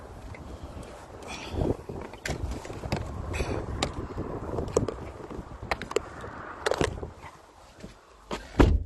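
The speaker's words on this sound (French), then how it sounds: "étant donné le vent qui souffle très très fort" Strong wind blows hard outdoors and buffets the microphone in loud irregular gusts, with rumbling bursts that rise and fall throughout.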